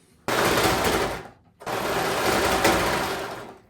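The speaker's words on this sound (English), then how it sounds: "Bring them to your serger or your zigzag stitch and serge these edges here" A serger sews the cut edges of jeans in two loud, steady whirring runs, each over a second long, separated by a brief pause, close and alone.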